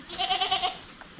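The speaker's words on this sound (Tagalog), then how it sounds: "Yung mga maliit nating kambing, oh." Small goats bleat close by on a farm, one wavering call lasting under a second followed by a faint shorter cry.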